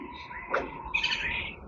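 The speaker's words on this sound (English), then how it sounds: "identify by seeing and hearing birds" Birds call along a riverbank in Belize during a morning hike, with a brief chirp early on and a louder burst of high calls toward the end over a steady outdoor hiss.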